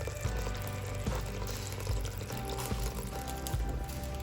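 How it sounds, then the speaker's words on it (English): Water pours steadily into a Dutch oven to make soup stock, a continuous full splashing fill with a few faint clinks, close and alone. "I'm going to add all that together in my Dutch oven with some water just to make the stock for my soup"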